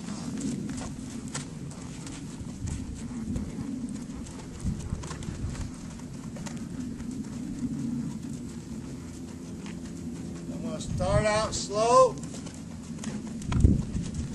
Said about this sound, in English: I'm going to ride this horse